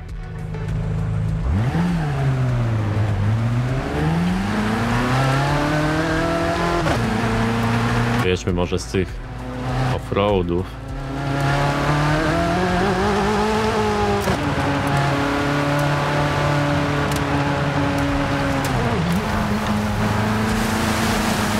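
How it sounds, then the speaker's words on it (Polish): A Corvette C8 Z06 engine in Forza Horizon 5 rises and falls through revs and gear changes, loud and steady throughout, while someone talks over it. "Ej, ona miała taki agresywny dźwięk, nie? Ta korwetka. Taki mocno gardłowy, pamiętam."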